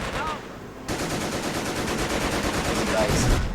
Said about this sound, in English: now my anti-infantry cannon should be able to finish off that MG